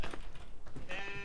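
Sheep bleat in a farming video game on the Hof Bergmann map. A few close, wavering bleats come in quick succession, the last one long and clearly voiced.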